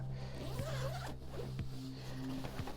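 A zipper on a bodysuit is pulled in several short rasping strokes, close up, over a low steady background hum.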